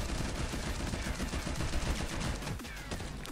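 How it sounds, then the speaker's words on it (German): Sniper gunfire rattles through a Shadowgun War Games match, with dense overlapping shots and bursts of game combat noise filling the whole stretch at steady loudness, with no one talking. "Oh, da wird gesniped da hinten."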